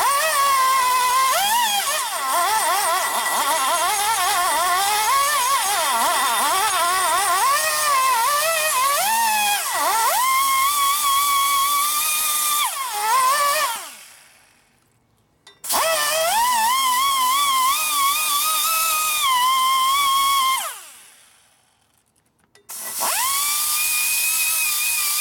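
A rotary grinder whines shrilly as it smooths the port of a big-bore stroker Harley shovelhead engine cylinder head. The pitch wavers with the tool's load, and the grinding stops briefly twice before starting again.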